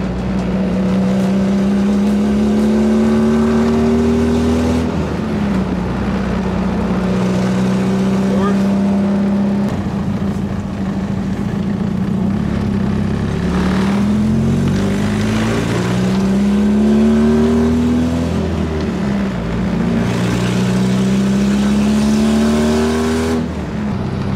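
A Nissan 240SX engine revs up repeatedly while driving, its pitch climbing through the gears in rising sweeps over a constant road rumble.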